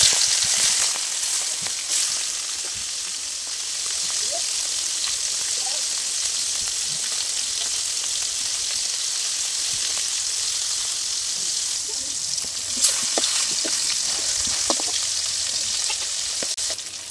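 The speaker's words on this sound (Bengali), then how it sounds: "এখন আমি মাছগুলা ভেজে নিচ্ছি।" Colombo fish frying in hot soybean oil: a loud, steady crackling sizzle, close and continuous, with occasional faint clicks of a utensil and no talk.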